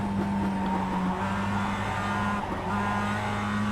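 A production race car loops and spins on the Daytona moto course in iRacing, its engine droning steadily with a sustained tire squeal and skid running loud and continuous throughout.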